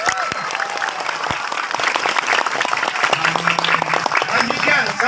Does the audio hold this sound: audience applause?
yes